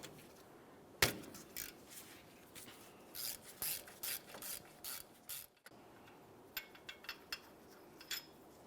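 A bolt is worked out of a Jeep Wrangler steering knuckle with a ratchet, giving a sharp metallic clank followed by bursts of quick clicking ratchet strokes, close and fairly quiet.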